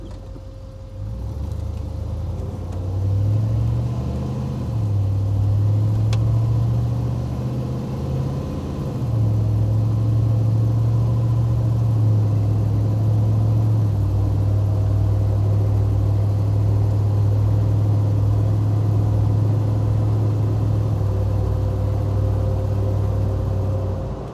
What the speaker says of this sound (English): I'm going to engage drive and hit the gas pedal.